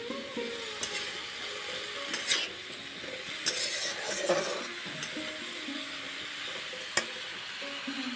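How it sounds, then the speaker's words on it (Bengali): Chili powder sautés in a frying pan with a low, steady sizzle, while a utensil stirs it with scraping and a few sharp clicks against the pan, with no one talking. "অল্প মরিচের গুঁড়া দিয়ে দিচ্ছি। ভালো করে সাঁতলে নেব।"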